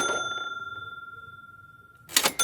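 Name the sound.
toy cash register ringing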